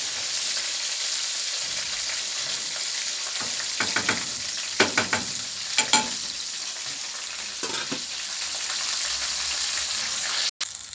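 Fish dusted in flour sizzles steadily in hot frying oil, a continuous loud hiss with a few brief stirring and clattering sounds around the middle and a sharp knock near the end.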